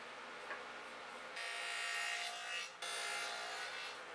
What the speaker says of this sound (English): I start cutting the rabbets in all my pieces